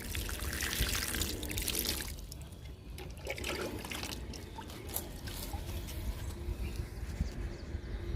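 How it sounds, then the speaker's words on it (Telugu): A continuous, fairly loud rush of water poured and splashing onto pomegranate plants during light rain, with irregular clicks and patters over it; no one speaks. "దానిమ్మ మొక్కలకి వాటర్ ఇస్తున్నాను."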